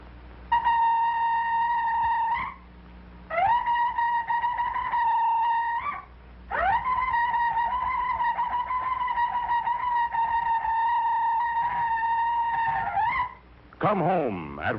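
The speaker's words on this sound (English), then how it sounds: "This instrument we will call a shofar." A shofar, a ram's horn, is blown in three long sustained tones with short pauses between them, steady and fairly loud, followed by a brief wavering sound at the end.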